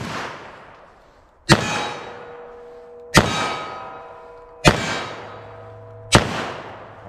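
Four sharp shots from a Taurus 856 revolver, spaced evenly about one and a half seconds apart, each followed by a ringing metallic clang from a steel target that slowly dies away.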